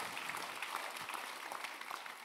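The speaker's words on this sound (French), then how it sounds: "Donc on peut l'applaudir quand même." An audience gives a senator a short burst of applause, dense and steady clapping from a crowd at a campus political event.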